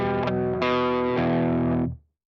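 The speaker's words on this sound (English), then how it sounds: "A 6L6 is going to give you a more full, more woofy sound." A single low electric guitar note played through an amp sim set to 6L6 power tubes, struck twice more as it rings full and distorted for about two seconds before cutting off.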